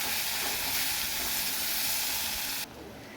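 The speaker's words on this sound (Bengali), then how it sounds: "পেঁয়াজ কুচিটা আমি এর মধ্যে দিয়ে দেবো।" Chopped onion hitting hot oil in a pan for a hilsa and eggplant curry gives a loud, dense, continuous hiss up close, which drops abruptly to a softer sizzle near the end.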